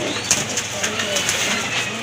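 Silver gorra pigeons, a male and a female, coo softly in low repeated murmurs close by, with a person's voice talking over them.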